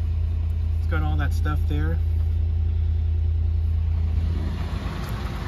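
A 1993 Cadillac Fleetwood Brougham engine idles with a steady, deep, continuous hum, close by, while someone speaks briefly over it.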